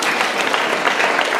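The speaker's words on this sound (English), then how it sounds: "a round of applause" A room full of people claps in a brief, dense burst of applause at a Girls on the Run gala, close and steady with no voices over it.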